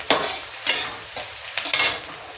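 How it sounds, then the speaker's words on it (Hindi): Fried rice sizzling in a pan while a spatula stirs it in four or five distinct scraping strokes, each a brief burst of rattle and hiss, close by with no voices. "तो ये लो गाइस, बन रहा है फ्राई राइस"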